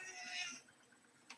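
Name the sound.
cat meowing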